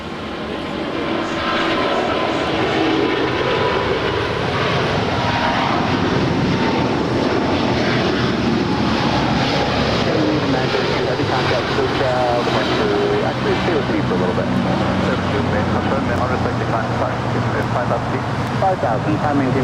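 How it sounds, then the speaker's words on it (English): An SAS Airbus A350-900 jet taking off at Los Angeles International Airport, a loud, steady engine roar that holds throughout at close range, with a voice speaking faintly underneath. "That is SAS Flight 932 departing to Copenhagen. It's an A350-900"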